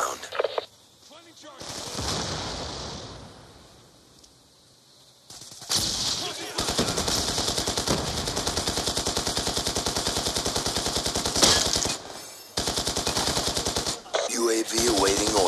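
Rapid, steady automatic fire from an An-94 rifle in Call of Duty: Black Ops 2 team deathmatch, long sustained bursts broken by short pauses, loud and close, with game voice callouts mixed in.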